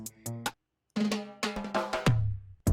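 A short drum fill of quick, close hits, pausing briefly, then ending on a deep, ringing tom that sustains before one last hit.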